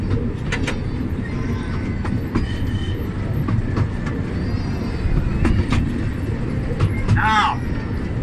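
A small amusement park train at Paulton's Park rolls along its rails with a steady rumble and clickety-clack, broken by occasional sharp clicks and a brief wheel squeal.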